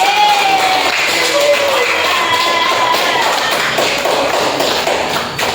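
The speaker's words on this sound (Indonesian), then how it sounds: "Beri tepuk tangan" A classroom of pupils claps together in a steady, dense patter of hand claps that holds at an even level and fades slightly at the end.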